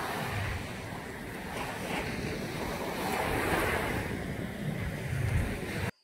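Ocean surf rolls and breaks on the shore at Haeundae beach, a steady broad wash of crashing water with wind noise, continuous and fairly loud, and no voices.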